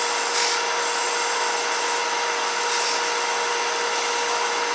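Steady, continuous abrasive rubbing of sanding on the top of a wooden stump box made from light wood, loud and close with no pauses.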